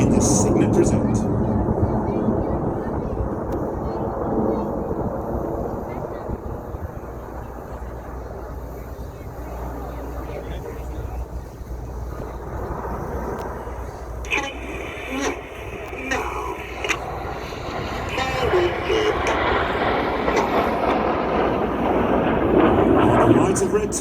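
RAF Red Arrows jets fly a loop at an airshow in New York, their engines a broad, steady roar that swells toward the end while an announcer commentates over a loudspeaker throughout.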